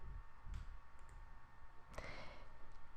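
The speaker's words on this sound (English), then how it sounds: "So to start, I just click on my direction and the start button." Mouse clicks on trading platform buttons, a few sharp, close clicks scattered over a quiet background, with a brighter, louder click near the end.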